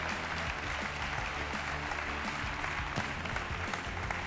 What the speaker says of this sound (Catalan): Aplaudiment pels dos.